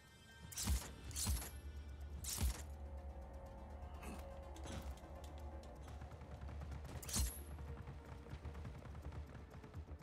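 Gunfire at a firing range in the video game Just Cause 4: several sharp, separate shots at irregular intervals, fairly distant and faint over a low steady background hum.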